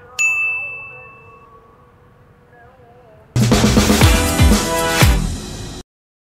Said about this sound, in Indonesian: nyalakan lonceng notifikasinya